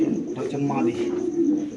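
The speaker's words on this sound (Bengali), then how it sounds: "খুব দামি একটা কবুতর খুব সুন্দর একটা কবুতর" Low, throaty cooing from a female pigeon close by, soft repeated coos mixed with a person talking over them.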